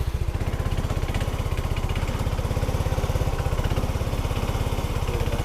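A Yamaha Xeon 125cc scooter engine running after starting, with its starter taken apart and its carburettor replaced; a loud, close, rapid regular idle putter that holds steady throughout, no voices.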